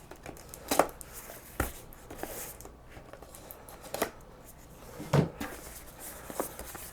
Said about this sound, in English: Got my box opening knife. Got to cut two tapes here.